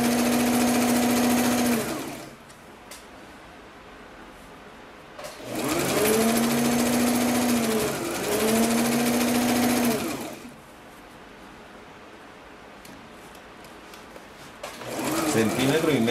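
Domestic sewing machine stitching a medium-width zigzag seam on stretch underwear fabric for a long boxer brief, running in two steady bursts separated by pauses, with a voice talking in between and over the motor.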